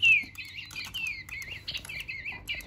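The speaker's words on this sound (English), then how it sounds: "I got this little bird for 49p, which I hope tweets." A cheap battery-powered toy bird chirps and tweets in quick, bright electronic trills, one repeating warble after another at close range with no voices over it.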